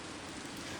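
Rain as a sound effect in a bedtime story: a steady, soft, even hiss of falling rain with no breaks and no voices, faint and brief.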